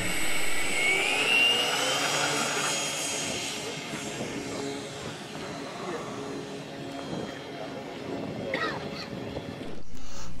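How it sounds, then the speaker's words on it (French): An F3A aerobatic model aircraft takes off at a world championship, a steady whining engine drone that rises and fades over about ten seconds while a commentator speaks. "Au décollage, Roland Matt."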